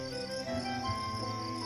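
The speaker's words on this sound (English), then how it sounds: "These songstresses, also nicknamed bush crickets, got this name from their loud, repetitive chorus" A chorus of katydids, the bush crickets of summer nights, trills in steady overlapping layers, a dense insect song that goes on without pause, moderately loud with no voices.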